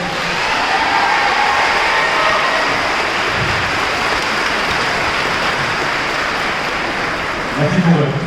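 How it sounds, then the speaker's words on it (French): Loud, dense applause from a large crowd fills the space for a K-pop performance at a convention, a continuous roaring wash that holds steady throughout, with a few voices near the end. "est-ce qu'on peut au moins les applaudir, s'il vous plaît?"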